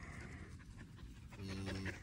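A small dog pants close by in quick, rhythmic breaths that grow louder toward the end, with a voice faintly heard in the background.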